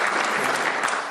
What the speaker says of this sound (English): About half the room is applauding that one.